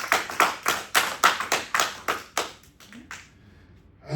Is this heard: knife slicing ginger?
no